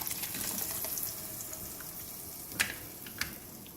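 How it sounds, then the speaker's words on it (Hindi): Water poured into a blender jar to rinse out leftover kofta spice paste, a faint, continuous splashing pour with a couple of soft knocks near the end. "इसको पानी डाल के खंगाल के वो भी डाल देंगे"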